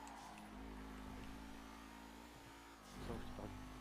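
Video game cars drive with a steady mid-pitched engine drone, then a louder rev swells briefly near the end, heard alone without talk.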